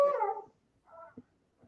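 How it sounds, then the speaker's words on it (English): A dog at home gives a close whimpering howl that trails off, then a second shorter whine and faint snuffling follow in a quiet room. "Hold on 1 minute. That's my dog."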